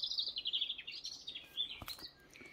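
Outside a period cottage in Castle Acre, Norfolk, a bird sings a run of bright, quick chirps and warbling phrases, close and clear against a quiet background.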